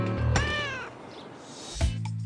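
A cat gives two meows, a long drawn-out one followed by a short one a moment later, both close and fairly clear.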